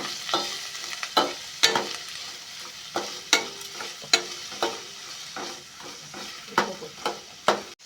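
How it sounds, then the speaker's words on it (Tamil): Potatoes with coriander leaves, curry leaves and green chillies are sautéed in a pan for aval uppuma, with a spatula scraping and stirring in repeated sharp strokes over a steady background sizzle. "பச்சை மிளகாய் எல்லாத்தையும் போட்டு ஒரு நல்லா வதக்கி விடணும்."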